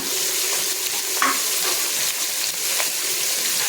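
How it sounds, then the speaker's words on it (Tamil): Onions and green chillies fry in hot oil for a homemade chicken biryani, a dense, even sizzle that carries on steadily throughout with a faint stir or two and no voices. "இது நல்லா பொன்னிறமாக வர்ற வரைக்கும் நம்ம இப்போ ஃப்ரை பண்ணுங்க"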